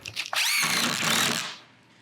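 A power driver sinks trim head screws through a hand-hewn beam skin box beam wrap, a sustained whirring drive ramping up and tapering off over about two seconds, close and fairly loud with no talk.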